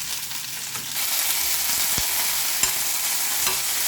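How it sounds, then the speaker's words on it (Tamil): Curry leaves, native coriander and homegrown mint sautéing in a pan, a steady broadband sizzle throughout with a few soft spatula scrapes against the metal, close and fairly loud with no talk. "கொஞ்சம் கருவேப்பிலை, கொஞ்சம் நாட்டு கொத்தமல்லி, கொஞ்சம் நம்ம செடியில் இருந்த புதினா, நாட்டு புதினா, இதெல்லாம் வதக்கிடலாம்"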